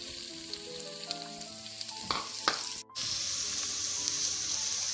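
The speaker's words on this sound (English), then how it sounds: "To the heated oil, I'm going to add in ginger and garlic. Then I'm going to add in the onions." Ginger, garlic and onions sauté in heated oil, a steady loud sizzle with a few stirring knocks and a brief break before the frying hiss resumes.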